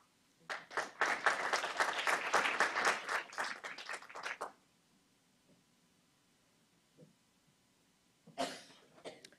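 Audience applause welcoming a speaker at an academic commission report event, a few seconds of dense hand clapping that stops abruptly, then quiet coughs and a louder cough or throat clearing near the end.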